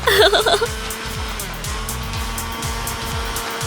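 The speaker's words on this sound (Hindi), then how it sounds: "हम अपने कागज के टुकड़ों को ब्लेंड करेंगे पानी के साथ।" A blender whirs loudly and steadily as it pulps torn paper pieces with water for papermaking, after a brief burst of music at the start.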